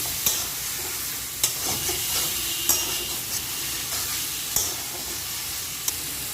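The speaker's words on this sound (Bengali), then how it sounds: "আবারও সব মশলাগুলো একসঙ্গে ভালো করে মিশিয়ে নিচ্ছি" Flat beans with salt, turmeric and spices are stir-fried in a pan: a steady, close sizzle with a spatula scraping and tapping the pan at a loose, regular rhythm, a crisp knock every second or so, and no voices.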